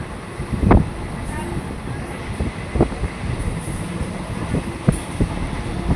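A train rolls past the Kondapalli hills with a steady rumble, punctuated by a few sharp clanks and rattles of the carriages, with faint voices in the background.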